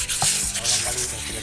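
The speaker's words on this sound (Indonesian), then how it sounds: "Jadi harus aku haluskan menggunakan amplas dulu seperti ini" Sandpaper rubbing a rough stone mortar to smooth it, close-up scratchy strokes that rise and fall in quick repeated passes.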